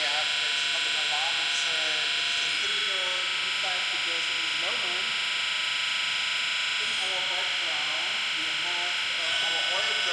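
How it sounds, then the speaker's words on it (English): A steady electronic buzzing tone from an oil processing unit filling newly delivered transformers at a high-voltage facility, continuous and loud, with people talking over it throughout. "in our background, we have our oil processing unit and we get a new delivery of transformers"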